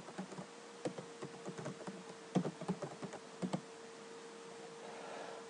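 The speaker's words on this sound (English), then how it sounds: "So here I can type in another website." Someone typing a web address on a computer keyboard: a quiet run of scattered key taps, irregular and fairly close, over a faint steady hum, then settling into near silence.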